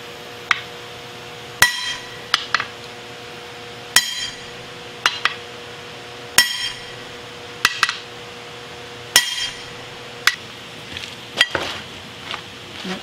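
A hammer strikes a steel plate held against a stuck overhead ram on a Kearney & Trecker milling machine, giving sharp metallic clanks that ring briefly, at irregular intervals, some in quick pairs, close and loud.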